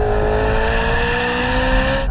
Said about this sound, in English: There's a tiny little delay from the paddles, but after that you can hear it really snaps the downshifts.